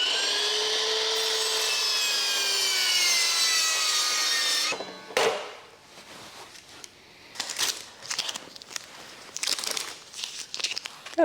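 A cordless saw cuts through a taped, veneered thrift-store coffee table from the 1980s, running as a loud steady whine for several seconds, then breaking into scattered scraping, knocks and rustling handling noises.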